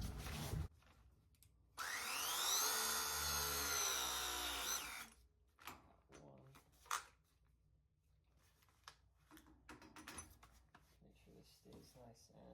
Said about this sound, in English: Now I can get my M18 press machine with my 3/4 inch jaw.